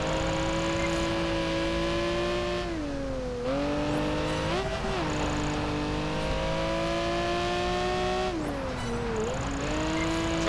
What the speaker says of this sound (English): Getting those handbrake drifts going on.